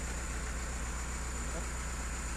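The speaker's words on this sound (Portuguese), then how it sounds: "Ele vai segurar aqui só pra gente girar o motor rapidão." A backhoe loader's engine runs at a steady idle, a low continuous rumble with a faint regular throb, heard up close without talk over it.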